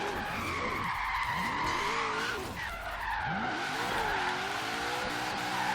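A Crown Victoria drifts in the video game Forza Horizon 3, its tires squealing continuously under a loud engine bouncing off the rev limiter, with rising and falling pitch as it slides through corners.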